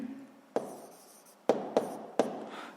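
A pen writes on paper during a seventh-grade physics exercise, making a few quick scratching strokes with sharp starts, spaced unevenly over a few seconds. The sound is close and quiet, with no voices.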